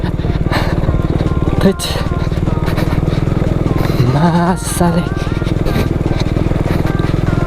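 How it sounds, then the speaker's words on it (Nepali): Hero XPulse motorcycle ridden off-road over loose stones along a riverbank, its engine droning steadily close by with brief revving swells, while riders talk over it. "खोलाको किनारमा बाइक चलाइदिरहेछौ हो"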